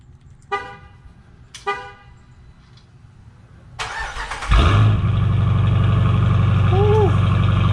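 A 2014 Jeep Grand Cherokee Summit with a 5.7L V8 and Stainless Works exhaust cranks briefly, then fires up loud and close into a deep, steady idle, with a few clicks and chirps beforehand and a faint voice over the rumble.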